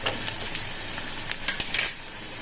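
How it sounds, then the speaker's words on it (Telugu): Urad dal, mustard seeds and cumin crackle in hot oil for a horse gram rasam tempering, a close sizzle broken by sharp pops and a few scraping stirs of a metal spoon against the pan near the end. "ఇప్పుడు కొద్దిగా మినపగుళ్ళు, ఆవాలు, జీలకర్ర వేసి బాగా కలుపుకోవాలి."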